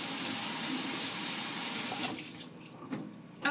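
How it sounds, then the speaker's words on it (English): Tap water runs into a kitchen sink while hands are rinsed under it, a steady close splashing hiss that breaks into softer trickles and drips near the end. "rinse the hands again"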